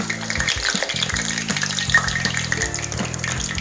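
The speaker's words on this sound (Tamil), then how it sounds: "இது நல்லா அழகாக ஃப்ரை ஆகுது." Cauliflower manchurian pieces frying in hot oil, street-shop style, give a close, steady crackling sizzle. A low, stepped hum runs underneath.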